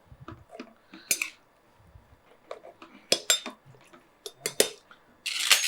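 Metal utensils clink and scrape against a pot while Arabic chicken biryani (maqluba) is lightly mixed, giving an uneven run of close clatters and taps with a longer scraping rush at the end.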